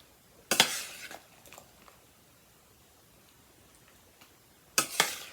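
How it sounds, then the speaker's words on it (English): Apple pieces tumbling into a pie dish, two loud clattering drops a few seconds apart with softer thuds trailing after the first, in an otherwise quiet kitchen. "So I'm going to go ahead and pile in a bunch of apples."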